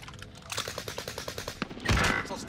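Rapid bursts of video game gunfire crackle in a fast, even rhythm, closing with a louder, heavier shot that fits a sniper rifle, with no talking over it.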